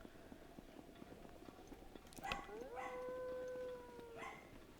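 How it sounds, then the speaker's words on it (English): An older dog barks and howls in a few drawn-out, wavering calls, rising then held, mid-distance over a steady background hum, with a sharp bark-like burst before the long howl. "that's my older dog barking"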